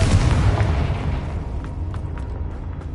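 The Confringo blasting spell in Hogwarts Legacy bursts into one loud booming explosion that rolls off into a decaying low rumble with faint crackling debris, heard alone without voices.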